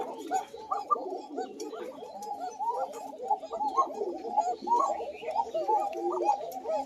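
Pigeons, newly paired adults just released into a breeding cage, coo steadily and close by, with dense, overlapping throaty calls throughout.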